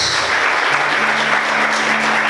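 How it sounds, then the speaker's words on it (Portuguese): Congregation applauding during an evening church service, a dense continuous wash of clapping from many hands with a faint sustained tone underneath. "Vamos aplaudir Jesus nessa noite."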